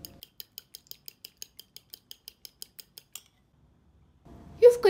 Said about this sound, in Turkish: Yumurtayı çatalla iyice çırpıyorum.